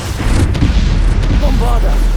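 A Bombarda blasting spell in the Hogwarts Legacy video game detonates as a heavy, continuous low boom filling the whole moment, loud and close, with a voice shouting over it.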